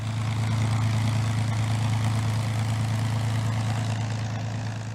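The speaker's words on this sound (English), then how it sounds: "And it has a sound all of its own. There's no sound like the P-51." A P-51 Mustang fighter plane's engine drones steadily, a deep, loud, even propeller rumble that holds unchanged throughout with no voices over it.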